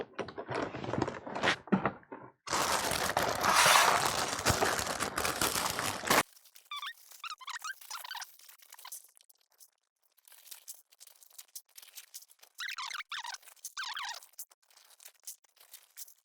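Plastic LEGO BricQ Motion parts and plastic bags are handled and sorted into the upper storage box, with loud crinkling and rattling early on, then lighter scattered clicks and clatter of small pieces with brief pauses.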